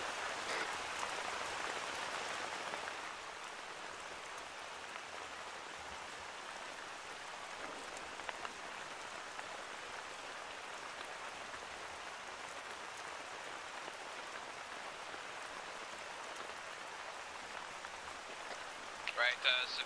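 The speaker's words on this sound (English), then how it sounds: "Spontaneous rain." Steady rain hiss in the video game ArmA 3, a broad continuous wash of falling rain that runs the whole time, a little louder at first, with faint voices barely present.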